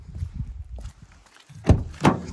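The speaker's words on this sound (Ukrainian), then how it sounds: "двері закриваються як холодильничку" Two solid thuds near the end as the door of a 2010 Opel Vivaro passenger van shuts firmly, after some soft shuffling and movement sounds.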